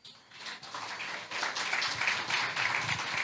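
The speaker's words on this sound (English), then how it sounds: "Can we get Nadia a round of applause?" A conference audience gives a round of applause, a dense wash of many hands clapping at once that swells after a brief lull and holds steady.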